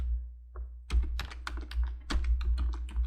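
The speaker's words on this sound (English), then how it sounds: "Okay, so now I'm going to type in the input box." Fingers tap on a computer keyboard, a quick run of close, distinct keystrokes over a low steady hum, entering text into an input box.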